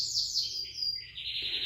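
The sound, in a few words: pet bird singing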